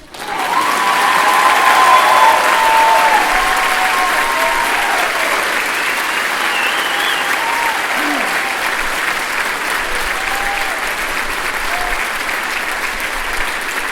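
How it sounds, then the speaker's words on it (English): Loud, sustained applause and crowd noise fill a large venue at the 2016 Plano ISD Academy High School graduation ceremony, rising fast and staying steady, with faint voices and cheers mixed in. "We can clap now."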